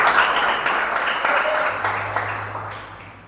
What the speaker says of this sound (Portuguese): Dê um forte aplauso a Jesus por isso.